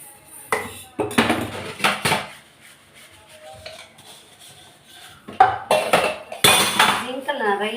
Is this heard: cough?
no